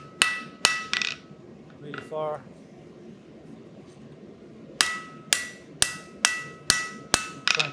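Blacksmith's hammer forging metal on an anvil, sharp ringing strikes close by: three quick blows, a pause with a short rattling ring, then a steady run of about nine evenly spaced hits, with someone speaking briefly.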